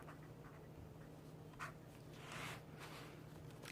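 A pen scratches into a weekly planner in faint, close strokes, with a short scribble and a longer one over quiet room hiss.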